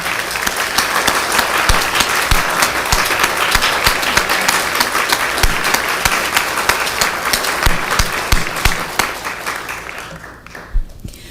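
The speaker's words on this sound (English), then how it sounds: "give all of our candidates a round of applause" A seated audience at a school board candidate forum applauds the candidates, dense and loud sustained clapping with crisp individual hits, continuing for around ten seconds before thinning out into a few last claps.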